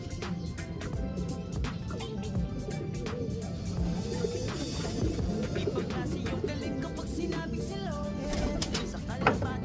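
Racing pigeons coo steadily from a loft, with low murmuring calls overlapping continuously over a busy background of faint clicks and scattered higher chirps.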